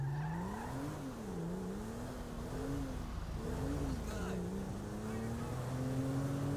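A car in GTA V on PC drives with a steady engine drone that rises and falls as it changes speed, loud and continuous throughout.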